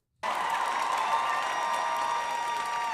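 Steady applause from a crowd, heard through a played-back recording, starting abruptly and continuing evenly at moderate loudness with a faint background hum.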